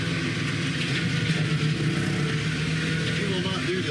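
A tractor-driven brush hog cutter runs steadily in the woods, a dense continuous engine and blade roar heard close and loud, with speech partly under it.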